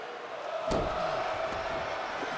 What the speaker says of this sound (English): It sounds like the crowd is actually chanting "Long live Bray Wyatt,"